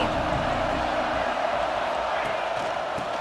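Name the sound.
stadium crowd cheering in EA Sports College Football 26 video game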